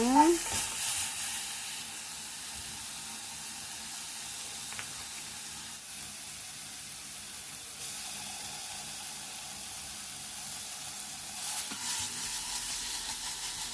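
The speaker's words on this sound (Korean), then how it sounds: "먼저 파하고 마늘을 넣고 볶아주다가 고춧가루, 고추장을 넣고 볶아주도록 하겠습니다" Green onion, garlic, chili powder and gochujang stir-frying in oil in a pan for a spicy squid gochujang stew, giving a steady, fairly quiet sizzle and crackle that carries on throughout.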